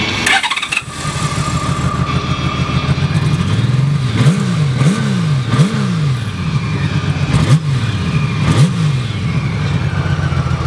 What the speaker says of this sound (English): Bike runs great.